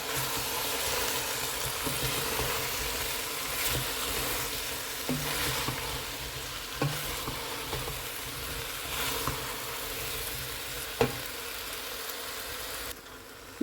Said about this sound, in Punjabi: ਗੋਭੀ ਨੂੰ ਅਸੀਂ ਪਾ ਕੇ ਅੱਛਾ ਜਿਹਾ ਆਲੂਆਂ ਨਾਲ ਮਿਕਸ ਕਰ ਦਿੱਤਾ ਵੇ